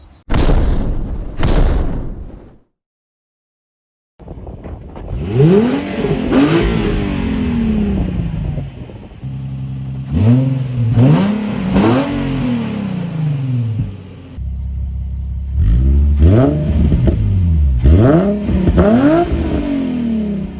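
A loud 2008 Infiniti G35x engine with a muffler delete revs repeatedly with a raw, throaty exhaust roar, rising and falling in pitch, with a brief silent gap near the start.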